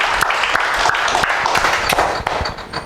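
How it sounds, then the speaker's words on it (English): An audience at a breakfast gathering claps in a brief burst of applause, dense sharp hand claps that thin out toward the end. "I just want a thundering applause for each and every one gathered here."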